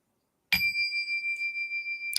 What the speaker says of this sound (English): Nice little bell.